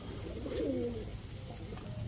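A high flyer pigeon gives a short, soft coo close by, heard alone over a low, steady background hum.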